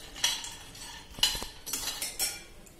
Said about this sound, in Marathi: हे काजू आपले अगदी हलकेसे भाजून झालेले आहे